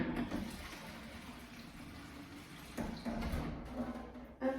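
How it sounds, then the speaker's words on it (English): Washing liquid poured into a mop's reservoir, a close trickling and glugging of liquid with a few louder splashy surges, fairly faint overall. "just pour some washing liquid in it"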